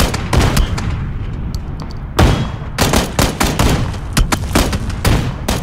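Loud gunfire in a video game cracks out in rapid bursts and single shots, with a dense volley of repeated blasts in the second half.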